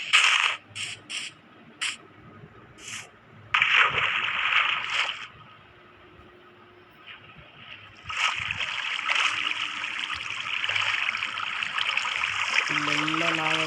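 Released water rushes and trickles nearby, coming in short bursts at first, then a longer steady flow that briefly quiets before returning as continuous splashing.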